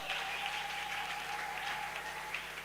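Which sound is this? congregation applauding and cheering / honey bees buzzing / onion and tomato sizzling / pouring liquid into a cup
congregation applauding and cheering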